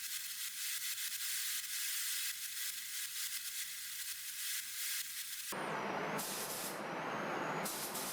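Spray gun applying quartz crystal clear lacquer onto parts of a vintage Black & Decker Gold Series 1/2-inch drill, a steady close hiss that grows broader and louder for the last few seconds.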